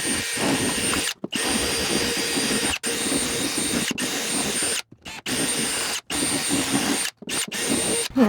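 A power tool, likely a drill, runs in loud sustained bursts during a bathroom remodel with supply plumbing work, cutting out briefly about seven times across the stretch with steady whining drone between stops.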